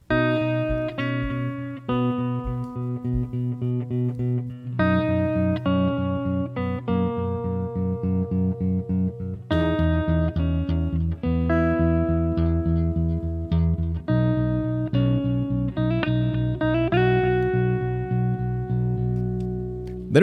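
Electric guitar plays the verse riff in tempo, a steady picked pattern with sustained chords and note slides, clean-to-lightly-driven tone, close and alone for the full stretch with no talking.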